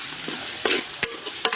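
Tomatoes sizzle in a pan with ginger and garlic paste while a spoon stirs them, giving a steady frying hiss broken by a few sharp scraping stirs.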